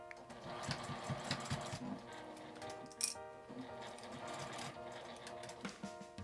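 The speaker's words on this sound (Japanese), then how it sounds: "硬いファスナーがあるところは手でミシンを送ります。" A sewing machine stitches fabric for a small zippered coin purse, a steady run of fast needle ticks, close and fairly quiet, with the pace easing where the stiff zipper section is fed through by hand.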